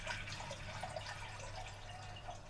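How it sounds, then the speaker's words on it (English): Water drips and trickles steadily from a leaking homemade candy corn container holding about a liter, a continuous close patter with no talking. "No, it's dripping."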